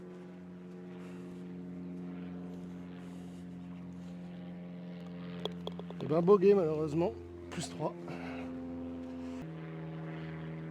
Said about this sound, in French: le bruit que vous entendez, c'est un planeur qui est tracté par, par son petit avion